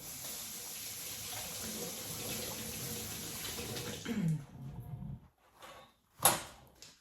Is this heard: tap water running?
yes